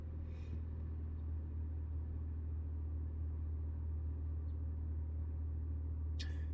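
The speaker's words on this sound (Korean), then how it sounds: "저는 이렇게 초반에 엔진 개입되고 나면은 RPM 떨어질 때까지 살짝 기다렸다가 출발합니다" A Hyundai Tucson NX4 hybrid's engine idles after kicking in, heard from inside as a low steady rumble with a constant hum as the revs settle, with faint brief clicks and rustles over it.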